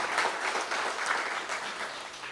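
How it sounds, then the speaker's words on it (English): Audience clapping steadily at a political cottage meeting in Oropouche East, a dense, sustained round of applause from a crowd with no talk over it. "Give Dr. the Honorable Roodal Munilal, give him a nice round of applause."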